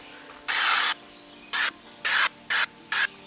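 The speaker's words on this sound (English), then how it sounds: "goes on just like normal bug spray." Five sharp bug spray bursts up close from a metal aerosol can, one longer blast followed by four shorter hisses, with quiet gaps between.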